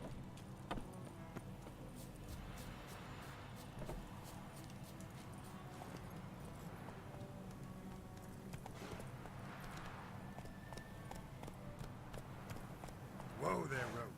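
A horse's hooves in The Witcher 3 video game make a faint, rhythmic clip-clop in the background of the game's soundscape, with a voice talking over it near the end.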